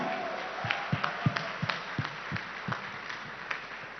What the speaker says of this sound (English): big round of applause for the tribal farmers of India, everyone!